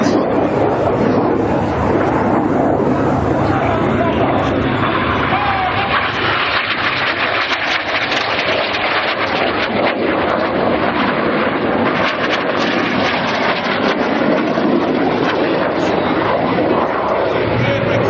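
Red Arrows jets flying a display at Biggin Hill, with synchro pair barrel rolls. A loud, continuous roar of jet engines and rushing wind fills the whole stretch, and a commentator's voice can be heard under it.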